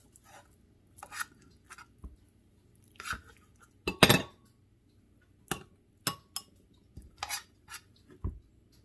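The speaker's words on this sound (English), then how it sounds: "Dish some up" Scottish rumbledethumps spooned out of a dish with metal utensils: sparse, separate clinks and scrapes of cutlery against crockery, close and fairly quiet, with a louder clatter near the middle.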